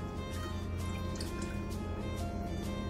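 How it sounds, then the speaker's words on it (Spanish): Evaporated milk is poured into a blender holding ripe mango pulp, making a soft, close, continuous liquid splashing and trickling at low volume. "Vamos a agregarle también la taza de leche evaporada."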